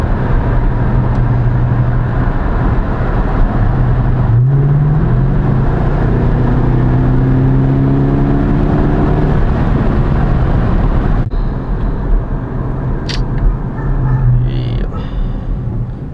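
A Dodge Charger R/T warms up at idle, a close, steady low engine drone holding for the whole stretch with a few faint shifts in tone.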